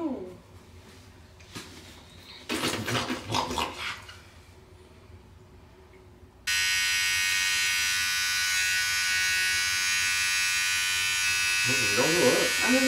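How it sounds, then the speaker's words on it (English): A home clothes dryer starts up partway through and runs as a loud, steady whirring drone with a faint hum. Someone talks briefly before it begins and again near the end. "Please pardon my dryer back there washing my clothes."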